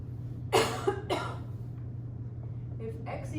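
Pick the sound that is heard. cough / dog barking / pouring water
cough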